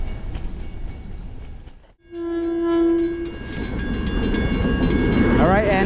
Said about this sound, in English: we're gonna have to go slow and wait for the train to go by.